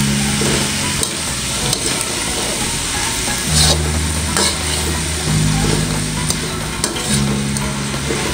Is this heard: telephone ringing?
no